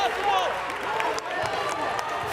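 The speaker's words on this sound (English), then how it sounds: "Lights this crowd up with a steal from Wilcox" High school basketball crowd in a gym cheering after a steal, a bright burst of shouts, whistles and clapping on a hardwood court, under fast play-by-play commentary with squeaking shoes.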